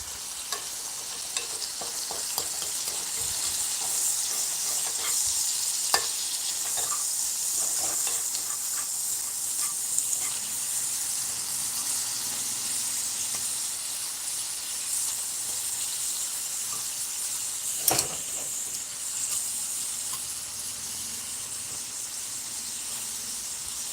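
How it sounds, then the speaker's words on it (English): Breakfast food frying in a pan gives a steady, close sizzle and hiss throughout, with occasional light scrapes and clinks of stirring and no talking. "let's let it fry up a little bit more"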